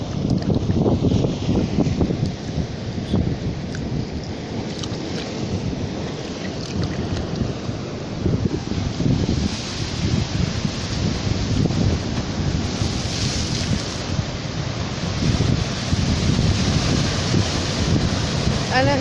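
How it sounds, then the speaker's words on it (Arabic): Sea waves break on the rocky shore at Al-Max in Alexandria, a continuous rough wash of surf and rumble, with wind buffeting the microphone throughout. "هسكت شوية عشان اسمعكم صوت البحر وجماله"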